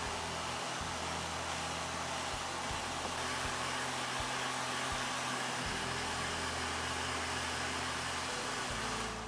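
A heat gun blows steadily and loudly over fabric being dried for a DIY fiberglass layup, a continuous broadband whoosh with a low motor hum beneath it, never pausing as the gun sweeps back and forth.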